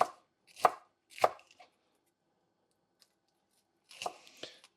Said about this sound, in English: So let's put a couple of these together, cut in strips.